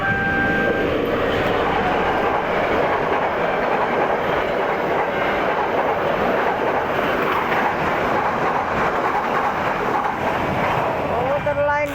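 KA Dhoho passenger train speeding past at close range, a loud continuous roar of wheels and clattering cars lasting throughout, with a horn-like tone at the start and a voice faintly underneath.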